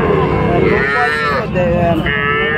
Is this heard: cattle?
yes